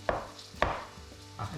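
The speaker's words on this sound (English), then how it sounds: "the next thing we're going to do is cut the mushrooms. So it's best to use the big knife." Mushrooms being sliced thickly with a big knife on a board, two crisp close chops followed by a softer cut, quiet and unaccompanied.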